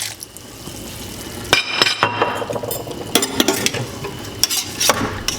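A spoon stirs wine into a succotash stew in a pot, with soft sizzling underneath and intermittent scraping and clinks of utensil against the pot.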